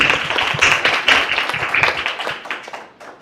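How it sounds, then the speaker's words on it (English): Audience at an International Women's Day event giving a round of applause, close crisp clapping from a modest crowd that fades away toward the end. "So another round of applause for Sofia."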